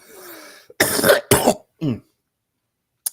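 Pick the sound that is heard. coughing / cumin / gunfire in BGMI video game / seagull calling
coughing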